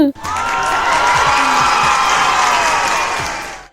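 Dense applause and cheering from a crowd swell quickly and hold steady for several seconds before stopping abruptly, with a voice briefly at the start.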